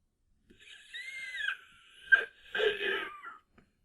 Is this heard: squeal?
yes